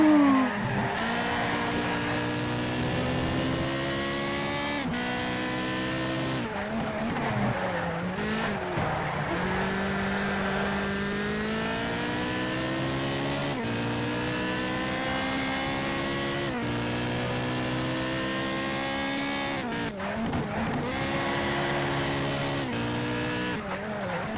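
Ferrari Challenge Stradale engine in the Ferrari Racing Legends video game, a steady loud synthetic engine note that rises and falls through gear changes and cornering, with brief tire squeal, continuous throughout.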